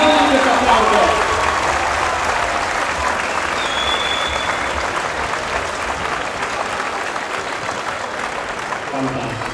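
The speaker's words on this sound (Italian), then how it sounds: "prolunghiamo questo applauso con ancora più intensità per gli atleti e le atlete" An audience at an acrobatics show applauds the athletes in a loud, sustained wash of clapping that eases slightly toward the end, with an announcer's voice over it.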